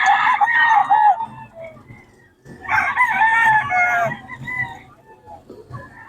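Roosters crow at a chicken market in Bocaue, two long, loud, close calls separated by a short pause, with faint clucking and low background chatter around them.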